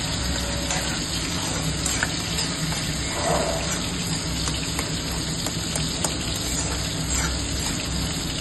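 Hot water pours into a pot of fish curry with tomatoes and boiled bottle gourd, giving a steady close gush and sizzle that runs the whole time with no talk.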